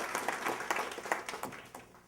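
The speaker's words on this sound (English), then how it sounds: "I think they deserve a warm round of applause" An audience applauds, a mass of overlapping claps with sharper individual hits, steady and moderately loud for two seconds.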